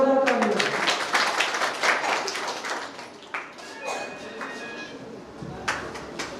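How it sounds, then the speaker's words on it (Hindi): An audience applauds at a Hindi kavi sammelan poetry recital, a burst of clapping that starts strong and thins out over a few seconds, mixed with voices. "जोरदार ताली"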